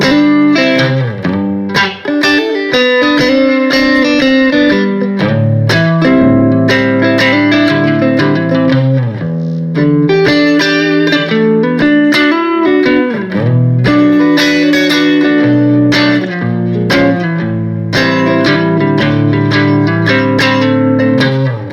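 An electric guitar plays alone, with chorded phrases and melodic fills through a lightly distorted, effects-colored tone, loud and continuous.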